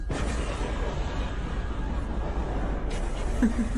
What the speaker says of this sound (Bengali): হঠাৎই শুনতে পেলাম বোমার শব্দ